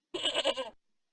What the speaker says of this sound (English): It sounded like a damn goat.